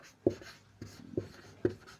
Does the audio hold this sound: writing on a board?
yes